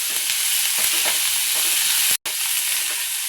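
Tomato and garlic sauté over medium heat in a pan, giving a loud, steady, close sizzle that runs almost unbroken, with one very brief dropout near the end.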